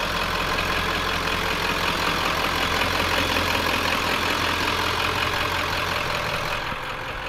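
Truck engine idling nearby, a steady loud mid-to-low rumble with a faint knocking texture, unbroken for several seconds before dropping slightly in level near the end.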